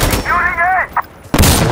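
Gunfire in the game Insurgency Sandstorm comes as loud, close bursts at the start and again near the end. A brief tonal vocal sound is heard between the bursts.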